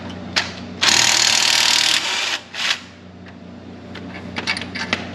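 Power tool on a JK Dana 44 axle shaft bolt, triggered in a loud, close burst of just over a second, followed by a shorter lower whir and scattered metallic clinks and handling noises.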